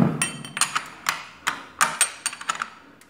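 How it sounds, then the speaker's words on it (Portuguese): A wrench works loose the oil drain bolt on a Suzuki GSXR750 Srad motorcycle, giving a series of sharp metallic clicks and taps in an irregular rhythm, close and fairly loud. "Olha aqui para abrir o dreno do óleo."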